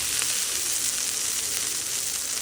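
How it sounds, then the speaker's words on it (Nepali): Corn kernels fry in ghee in a pan, a steady, dense sizzle with no voices, holding even throughout. "मैले चाहिँ घिउ हालेर भुटेको साथीहरू, अझै भएको छैन।"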